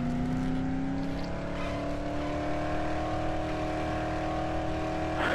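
A car driving in the zombie game Dead Island: a steady, loud engine drone with a constant pitch that holds throughout and swells slightly at the very end, with no talking over it.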